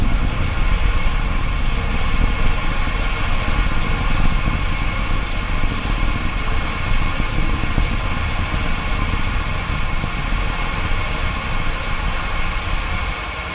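Falcon Heavy rocket engines roar during a night launch, a loud continuous broadband rumble with a steady crackling texture that holds without pause.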